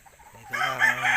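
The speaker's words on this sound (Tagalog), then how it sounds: "Ito naman yung mga stag natin, maliliit." A single short, hoarse crow from a young rooster, rising and ending abruptly, fairly close with a quiet background.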